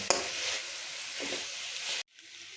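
Potatoes and Kashmiri red chilli powder are stirred into a drumstick curry in a hot pan, with steady oily sizzling and scraping for about two seconds before it cuts off abruptly.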